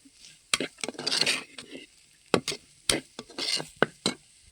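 Potato curry stirred in a cooking pot, with repeated sharp ladle knocks and scrapes against the pot separated by brief bursts of wet shuffling, close and irregular.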